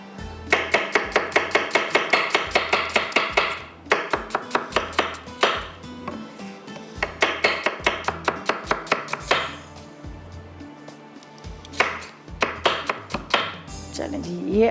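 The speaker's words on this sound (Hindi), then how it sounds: "इतनी देर में बाकी भी प्याज हमारी कटिंग हो जाएगी।" A knife chops onions on a cutting board for a spicy shrimp chow mein, striking in fast rhythmic bursts of close, crisp taps, with short pauses between runs and a faint voice now and then.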